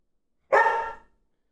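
A single short, loud dog bark from Harvey, close by, with silence around it.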